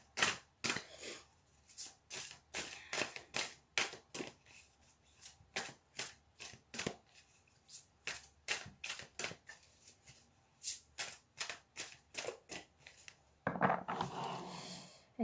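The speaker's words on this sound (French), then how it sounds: "Je laisse un petit peu le temps de battre un petit peu les cartes." Tarot cards are riffled and shuffled in a long series of crisp, rapid bursts, close and fairly quiet, with brief pauses between them and a louder rustling handling of the deck at the end.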